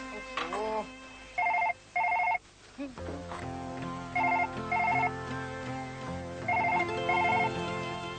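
A telephone rings in repeated double bursts, three pairs in all, over a steady background hum and faint talking.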